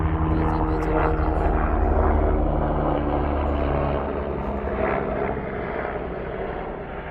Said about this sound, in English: The airplanes, they've been busy this morning.